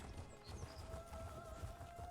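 A horse's hooves clip-clopping at a steady trotting rhythm in The Elder Scrolls Online, faint and continuous under soft ambient game music.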